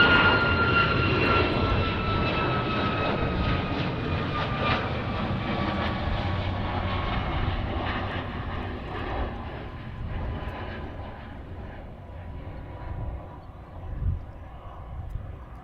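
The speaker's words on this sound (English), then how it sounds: "We're getting departure after departure after departure after departure." Jet airliners depart Chicago O'Hare International Airport, one loud engine roar with a descending whine fading slowly as it climbs away, over a background hum.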